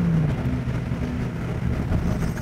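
Classic Nissan S30Z engine droning and revving inside a tunnel, a steady low-pitched rumble with a slight rise in pitch, loud and close, with no talk over it.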